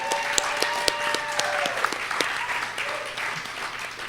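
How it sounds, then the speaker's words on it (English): Live podcast audience at an event venue applauding, a dense, steady wash of many hands clapping at moderate loudness, with a few sharper claps standing out and some faint voices underneath. "can we get a round of applause for the Factory Obscura staff?"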